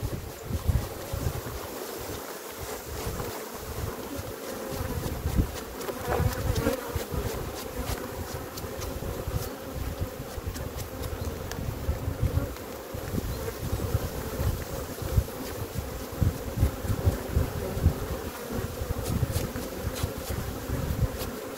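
A dense, steady hum of many honeybees buzzing close by around hive frames, continuous throughout with a low rumble of wind against the microphone.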